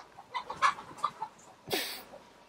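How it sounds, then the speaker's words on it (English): A few soft clucks from a chicken, fairly close, with a brief rustling burst near the end; quiet surroundings, no talking. "I'm just going to get the chickens out of the garden"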